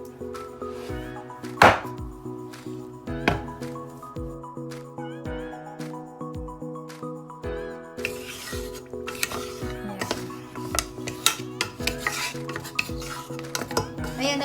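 A spoon stirs chunks of chocolate and a stick of butter melting together for homemade brownies, with steady scraping and clinking against the pot that grows busier and more continuous toward the end.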